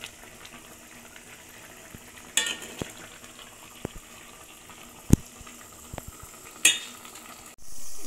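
A spoon works tamarind into a pot of sour spinach (pulicha keerai) kuzhambu, giving a few sparse, faint scrapes and sharp clinks against a quiet background.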